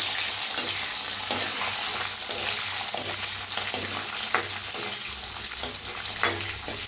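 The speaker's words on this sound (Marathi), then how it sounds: "एक कांदा कापून घेतला भाजून घेऊया" Sliced onion frying in a pan for sambar, a loud continuous sizzle close by with occasional stirring scrapes.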